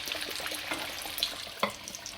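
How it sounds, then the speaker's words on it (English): Chapli kebab deep frying in oil, a close, continuous crackling sizzle with scattered pops, heard alone without any talk. "First we're gonna try deep fry."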